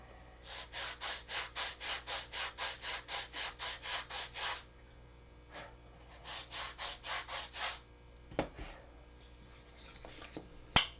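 Wooden canopy parts being sanded by hand: a quick run of about fifteen even rasping strokes, a short pause, then another burst of strokes and a couple of knocks, close and clear.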